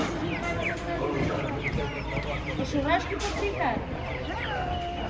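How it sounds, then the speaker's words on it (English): A crowd of chickens clucking and squawking continuously up close on a farm in the Algarve, Portugal, a busy overlapping chorus with a voice talking in Portuguese somewhere in the mix. "the chickens."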